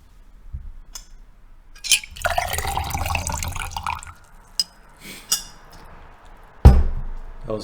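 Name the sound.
water pouring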